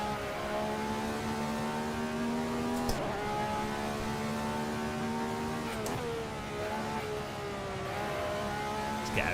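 Radical SR3 race car engine in the Assetto Corsa racing game, a sustained buzzing drone that holds under load and breaks with sharp pitch drops at two gear changes.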